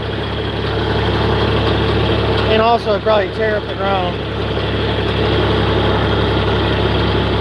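A John Deere 4020 hay tractor idles with a steady, low diesel rumble, loud and close, while someone talks briefly over it.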